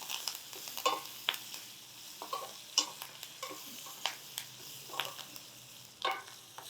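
Curry leaves frying in hot oil for a Punjabi dal tadka tempering, a soft sizzle with frequent sharp crackles and pops spaced irregularly, fairly quiet, no talking.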